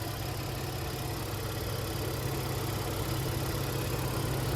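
The 3.5 liter V6 in a 2023 Honda Pilot LX AWD idles softly and steadily, heard as a low, even hum from under the hood with no speech over it.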